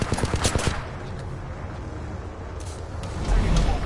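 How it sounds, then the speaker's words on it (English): Grenade blasts and gunfire in the video game Apex Legends form a dense, continuous roar of explosions and shots that swells again toward the end, loud and close throughout. "I got me getting nades and shit thrown at me"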